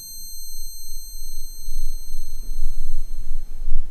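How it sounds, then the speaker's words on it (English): A thin, high-pitched steady ringing tone from a horror film hangs over a low rumbling background, continuous and unchanging throughout. "But I needed ringing noise to stop."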